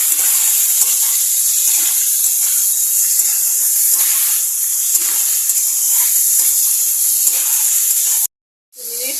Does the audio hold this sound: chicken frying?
yes